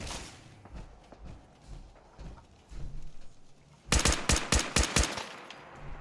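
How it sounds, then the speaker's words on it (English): Burst of Fallout 4 gunfire, about six sharp shots in rapid succession near the end, loud and close, after a stretch of quieter game ambience. "Sometimes I just shoot randomly to see where they're at."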